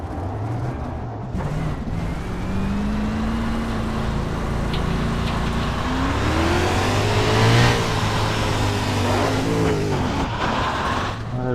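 A USAC race car in the iRacing sim roars through rising and falling engine revs, with tire scrub and a loud whine building midway, close and continuous with no talking.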